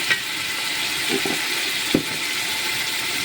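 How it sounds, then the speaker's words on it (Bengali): Fat fried with salt and turmeric sizzles steadily in a pan for a Bengali khichuri, a continuous loud hiss broken by a few soft scraping stirs. "এই চর্বিটা ভালোভাবে কষিয়ে নেব"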